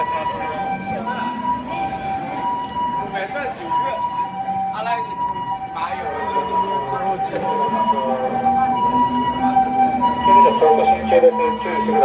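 An ambulance siren wails along a city street, its rising and falling tone growing louder as it approaches, heard under traffic noise and people talking nearby.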